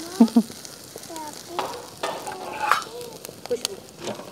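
Saag, mustard greens, frying in a pan in a Pakistani village kitchen, with a faint steady sizzle beneath scattered clinks and scrapes of a spoon stirring against the pan.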